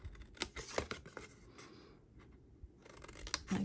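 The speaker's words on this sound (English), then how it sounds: "take your scissors, and snip these lines right here" Scissors make a few close, crisp snips through burnished cardstock in a quiet craft room, with short clipped cuts, a brief pause, then more snipping and paper handling.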